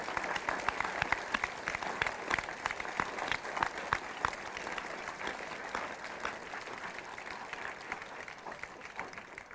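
Steady, moderately quiet applause fills a Dieppe municipal council chamber for newly elected deputy mayors, many hands clapping continuously with distinct individual claps standing out, tapering slightly toward the end.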